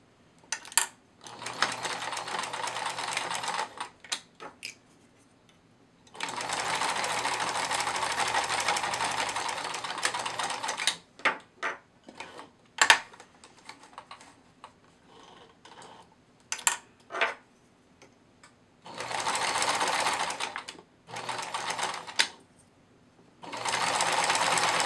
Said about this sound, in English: now I can flip it back again and go back over it with a stretch stitch